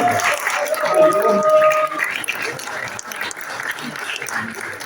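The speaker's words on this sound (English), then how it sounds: "Big round of applause for Jim." Audience applause greeting a candidate at a California Republican gubernatorial primary debate, a burst of clapping that fades over a few seconds into quieter crowd noise.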